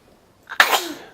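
One sharp, close sneeze bursts out suddenly after a short intake of breath, then trails off quickly in a quiet room.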